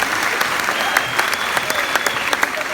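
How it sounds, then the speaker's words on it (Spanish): An audience claps for the mothers in a church gathering, a dense, steady patter of many hands sustained throughout at moderate loudness. "Démosle un aplauso a las mamás, hombre, por favor."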